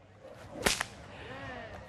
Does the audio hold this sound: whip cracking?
yes